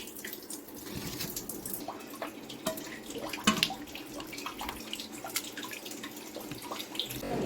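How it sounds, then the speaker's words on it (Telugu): Tap water runs and splashes in a sink while raw chicken is washed with turmeric and rock salt, steady and close, with intermittent drips and knocks and no talk. "చికెన్ని మనం పసుపు అలాగే గల్లుప్పు ఉంటుంది కదండి అది వేసి ఇలా వాష్ చేయాలి"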